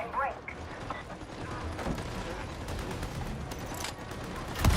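Shotgun blasts in the video game Warhammer 40,000: Darktide, scattered through dense combat noise with mechanical clatter and a heavy boom at the end, with a voice talking over the mix.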